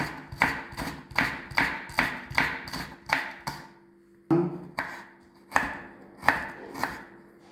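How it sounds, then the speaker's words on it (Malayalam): A knife chops green chillies steadily on a board in quick even strokes, about a dozen crisp taps, with a short pause midway before the chopping resumes. "ചെറുതാക്കി അരിയുക,"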